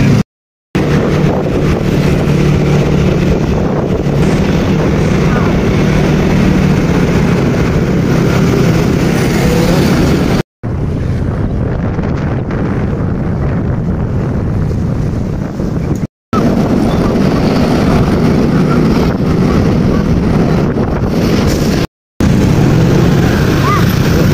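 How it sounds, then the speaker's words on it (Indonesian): Steady roar of wind buffeting the microphone while riding a motorcycle, loud and continuous with a few brief dropouts, no talk. "ini aku lagi di motor."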